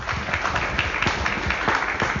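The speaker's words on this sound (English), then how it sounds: "Let's give him a round of applause." An audience gives a speaker a brief round of applause at a career-change event, a short burst of close, crisp clapping at steady loudness.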